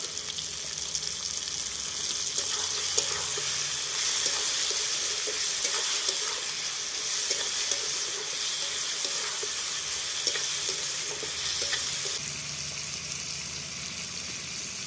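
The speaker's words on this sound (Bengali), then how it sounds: "বন্ধুরা এবার আমি গাজরটা দেব" Carrots go into a hot pan for an olive pickle and set off a steady, close sizzling hiss that carries on evenly, with faint clicks of stirring underneath.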